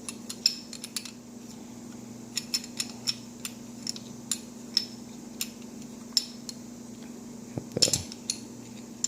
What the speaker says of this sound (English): Go ahead and reinstall the barrel bushing.